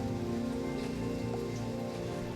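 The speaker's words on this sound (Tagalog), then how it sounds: "malakas ng ulan dito" Steady, heavy rain in the video game Minecraft pours continuously, a dense wash of drops drumming on surfaces with a low hum beneath, with no voices.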